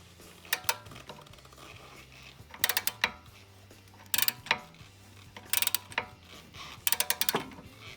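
Repeated ratcheting clicks come in short bursts as a breaker bar with an M14 socket loosens the brake caliper hanger bolts on a VW Tiguan's rear brake, separated by quieter pauses of metal handling.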